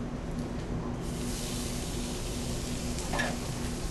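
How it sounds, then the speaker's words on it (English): Onions frying on a grill in a commercial kitchen, a steady close sizzle with soft hiss, continuous and alone, with a brief scrape near the end. "we're going to begin to fry our onions"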